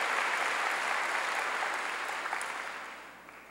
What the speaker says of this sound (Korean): 박수로 하나님께 영광을 돌리는 거예요